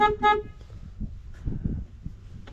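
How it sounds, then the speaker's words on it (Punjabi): Two short horn toots sound at the start, followed by faint rumbling and muffled background noise. "ਪਹਿਲਾਂ ਹਾਰਨ ਪਤਾ ਨਹੀਂ ਕਿਉਂ ਵੱਜਣੋਂ ਹਟ ਗਏ ਹੁਣ ਫੇਰ ਚੱਲ ਪਿਆ"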